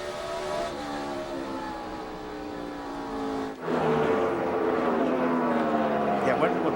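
NASCAR Busch Series race cars roar around New Hampshire International Speedway, engines sustained and droning at high revs, with a sharp dip and a louder, closer car surging past midway, under a commentator's talk.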